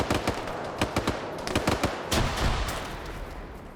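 Sustained suppressive gunfire in a large multiplayer military shooter match: loud bursts of rapid automatic fire with sharp individual shots, dense and continuous over a few seconds, with no voices.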